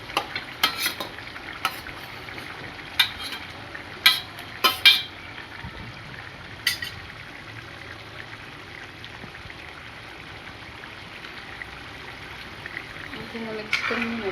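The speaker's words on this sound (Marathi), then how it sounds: "आता मी पनीर त्याच्यामध्ये सोडणार आहे." Paneer is added to a simmering matar paneer gravy and stirred in a pan, with soft scraping and sizzling over a steady low bubbling and a few sharp clinks of a spoon early on.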